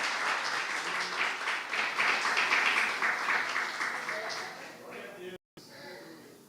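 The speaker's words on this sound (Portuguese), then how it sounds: "Vamos aplaudir ao Senhor" A church congregation applauds during a Sunday service, a steady wash of clapping that holds for about five seconds, breaks off suddenly, then returns more faintly.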